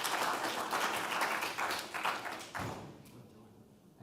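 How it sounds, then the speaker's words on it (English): Audience applause for the panelists at the close of an agriculture and climate finance panel, a dense burst of clapping that thins out and fades over a few seconds, with a voice briefly audible near the end. "can you please give a round of applause to the panelists."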